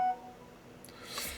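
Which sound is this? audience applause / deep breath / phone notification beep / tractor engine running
phone notification beep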